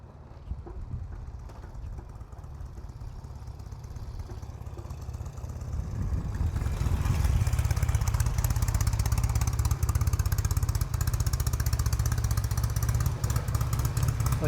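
Norton motorcycle engine running under its own power, a steady throbbing rumble that swells louder and closer after a few seconds and then holds at a loud, even drone.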